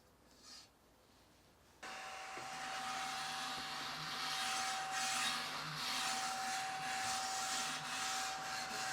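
A compact desktop vacuum cleaner switches on after a quiet moment and runs with a steady, close whining hiss while sucking up fine dust, with faint rubbing and scraping under the motor noise.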